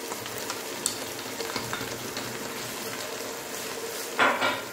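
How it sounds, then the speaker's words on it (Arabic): Vegetables for a spicy Algerian chakhchoukha frying in a covered pan over lowered heat, a steady close sizzle with a brief clatter near the end. "نقصت لها النار وغطيتها وخليها تتقلى"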